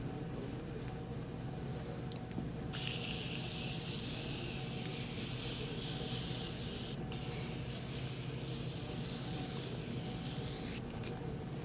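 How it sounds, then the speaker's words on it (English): A Morphe Continuous Mist face spray bottle hisses in a long steady burst, then a second shorter spray, close up over a constant low background hum. "I'm going to spray it with the Morphe Continuous Mist Spray."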